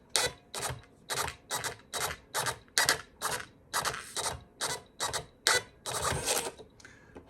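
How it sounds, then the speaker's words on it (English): An inexpensive thermal printer prints a banner sent from a TI graphing calculator, making a rapid series of about a dozen evenly spaced mechanical whirring bursts with brief pauses between them, close and clear. "I'm showing this on an inexpensive thermal printer"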